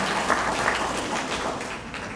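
Audience applause at a school district reward schools announcement, a steady broad wash of clapping held at even loudness throughout, with no talk over it.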